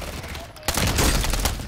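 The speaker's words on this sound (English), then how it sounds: "We've been mortared." Mortar fire strikes players in a Call of Duty match: after a brief quiet stretch, a sudden loud blast breaks out and a rough, rumbling barrage follows without pause.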